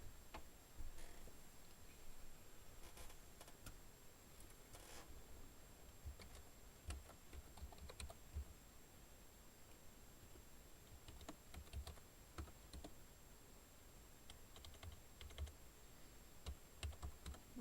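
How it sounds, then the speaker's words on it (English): Quiet, irregular typing on a computer keyboard continues throughout, soft clicks and taps in uneven bursts, close and alone with no voices. "I'm trying to type."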